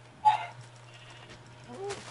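A Minecraft sheep gives one short bleat near the start, followed by quieter game sounds over a low steady hum.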